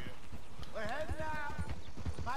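Shire horse hooves in the video game Red Dead Redemption 2 clip-clop at a steady walking rhythm, close by. Someone talks over them throughout.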